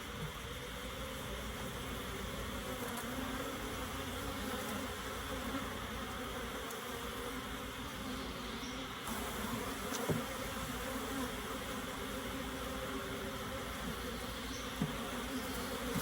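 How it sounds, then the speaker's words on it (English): Honey bees buzz steadily around hive frames during a swarm trap transfer, a dense continuous hum close to the microphone with no voices and only a few small knocks. "Don't want to crush any bees."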